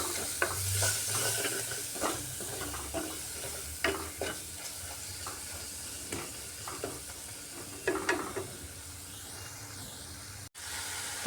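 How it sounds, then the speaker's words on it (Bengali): Powdered spice masala with a splash of water being sautéed and stirred in a pan for potol (pointed gourd) sabji with besan: a steady soft sizzle under repeated scraping stir strokes, close and fairly quiet, no talk. "ভালো করে কষিয়ে নিচ্ছি।"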